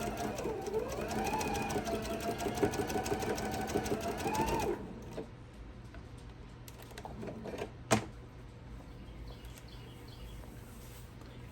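A sewing machine stitches rapidly and steadily across the side of an apron, a close, loud run of about four and a half seconds that cuts off, leaving quiet room sounds and a single sharp knock.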